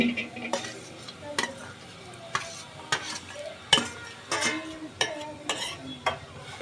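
Fried prawns going into a simmering gravy and being stirred, a series of near, evenly spaced spoon scrapes and knocks against the pan over a soft bubbling sizzle, no voices.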